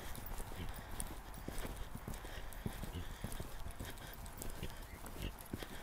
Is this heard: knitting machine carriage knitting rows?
no